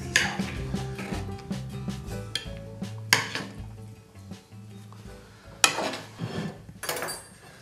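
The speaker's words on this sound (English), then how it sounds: "Let's plate a few of these up." Crab ravioli in butter being plated onto dishes, with spoons clinking and scraping against plates and pans in a string of sharp metallic taps and clatters amid soft kitchen handling noises.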